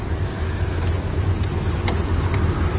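A 1984 Chevrolet El Camino idles and rolls off with a steady, low engine rumble, close and continuous throughout.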